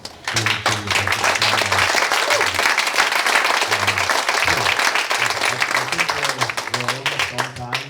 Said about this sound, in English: So shout out to you guys and big applause.